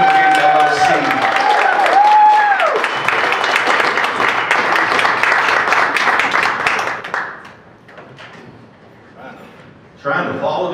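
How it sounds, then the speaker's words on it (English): An audience at a Colorado Springs event claps and cheers to welcome a speaker, loud and dense at first while a voice talks over it, then fading out about two-thirds through into quieter room sound. "Let's give a big, warm round of applause for Frank Sinclair of Dream Again, LLC."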